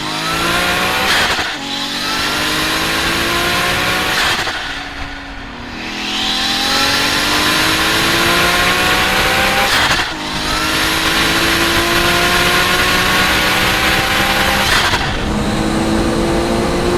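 A new dream car's engine revs hard while driving, climbing in pitch through several gear changes, with brief dips between pulls. Loud and close throughout, with faint tyre noise underneath.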